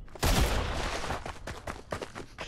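Sniper rifle firing in the Fortnite video game: one loud, sharp shot near the start with a booming tail, then several fainter shots and impacts trailing off.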